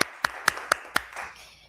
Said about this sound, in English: So I'll give a big round of applause.